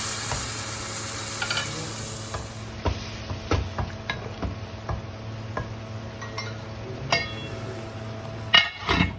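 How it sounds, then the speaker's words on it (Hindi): A spoon stirs chicken with milk in a cooking pot, giving repeated light clinks and scrapes against the metal over a soft background sizzle, with a louder clatter near the end and no talking. "दूध डाल के और फिर इसको मिक्स करेंगे।"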